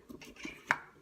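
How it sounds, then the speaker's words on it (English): Several knife strokes chopping vegetables on a cutting board, a few soft taps followed by one sharper, louder chop, with no talking. "I'm going to be taking some vegetables and chopping them up"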